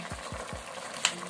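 Oil added to a pot of okra soup gives a brief hiss and crackle close by, with three low thumps from the pot first and then a short sharp clink.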